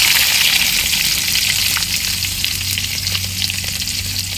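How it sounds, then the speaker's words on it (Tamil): Chopped onions, coriander and green chillies fry in a pan for a village-style chicken kulambu, giving a loud, steady, close sizzle that runs unbroken with no voices. "கொத்தமல்லி, பச்சை மிளகாய் எல்லாத்தையும் நல்லா வதக்கிக்கலாம்."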